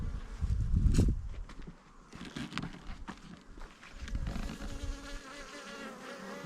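Honeybees buzz at the entrance of a hive, close-up buzzing that swells and fades as individual bees fly past, with faint rustling in between.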